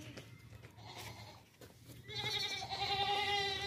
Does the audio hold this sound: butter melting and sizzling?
no